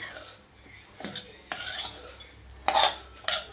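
A spoon scrapes and clinks against a pan as dry fruits are stirred into mango sheera, a few uneven scraping strokes and soft knocks, close and moderately loud with no voices.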